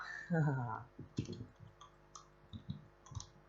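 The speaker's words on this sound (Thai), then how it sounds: "เสียงกดคีย์บอร์ดหรือเมาส์นะฮะ" Faint, crisp clicks of keys and a mouse tap out irregularly while a person talks over them, playing Minecraft.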